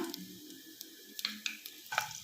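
Cinnamon bark and cloves sizzle in hot oil and ghee inside a pressure cooker, a low crackling hiss broken by scattered sharp pops and a few stirring scrapes, close and alone.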